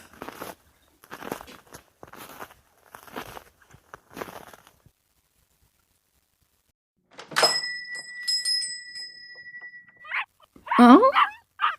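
Puppy sounds close by after a stretch of quiet: a burst of high whines and yips with sustained squeaky tones, then a louder cluster of whimpers and small barks, following earlier soft thumps like footsteps.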